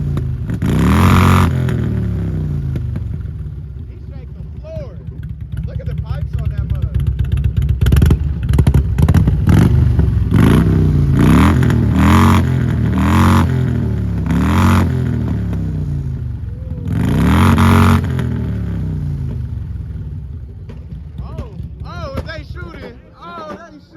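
A supercharged Audi engine at a car meet, revving repeatedly and loudly at close range with rising and falling whine and rumble, crowd voices talking over it.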